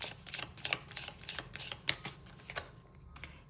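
Tarot cards shuffled by hand in a series of crisp riffling and flicking bursts, with sharp snaps as cards spring loose and fly out, close and fairly loud, no talking.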